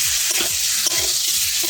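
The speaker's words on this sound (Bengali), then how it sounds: "আবার একটু নেড়ে নেব" Masala with eggs and potatoes sizzles in a pan as a spoon stirs it, with steady frying hiss and several soft scraping strokes, close and clear with no voices.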